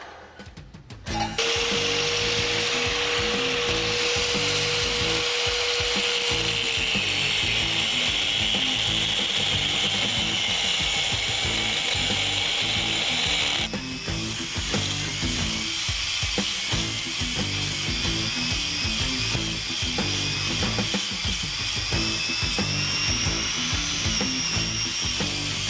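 Power tool cutting through a huck bolt, a loud sustained grinding whine that runs steadily for most of the stretch, shifting in tone partway through as the cut continues.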